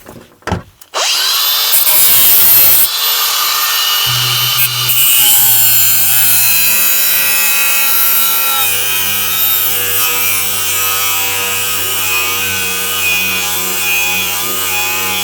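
An angle grinder cuts through the chassis bolts of a 1978 Reliant Kitten DL: a couple of knocks, then a loud, sustained high whine with harsh grinding that dips briefly and carries on to the end, with no talking.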